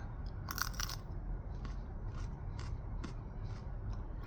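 Crunchy bites into a raw White Naga chili pepper, a Naga Morich variety with a round 7-pot look and juicy walls, giving a cluster of close, sharp crunches early on and then quieter chewing over low background noise.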